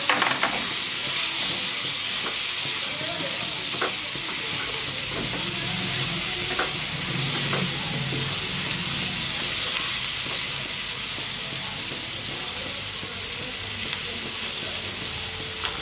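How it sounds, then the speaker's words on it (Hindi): Masala and tomatoes sizzle loudly in a pan with a constant hissing fry, and scraping stirs come and go throughout. "मसाला थोड़ा फ्राई हो जाए तो आप इसमें टमाटर डाल दीजिए"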